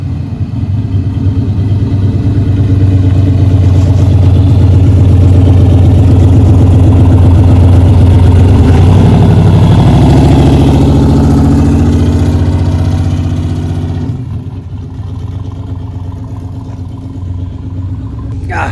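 A loud, deep turbocharged LS V8 drag truck engine in a Chevrolet S10 rumbles nearby with a lumpy, throbbing idle, swelling slightly as it revs, then dropping back and settling down.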